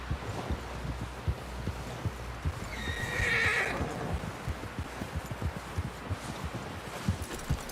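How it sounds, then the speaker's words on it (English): A horse in Red Dead Redemption 2 whinnies once midway, a bright high call rising over steady rhythmic hoof clops that continue throughout. "Someone help John down off this horse."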